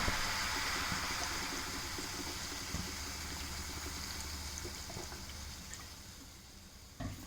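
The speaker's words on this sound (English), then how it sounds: "I'm going to add about a cup of water to it" About a cup of water poured into a cooking pot holding spiced pumpkin, peanut and chana gravy with turmeric and hing, a soft continuous faint splashing stream under steady background hiss, with no talking.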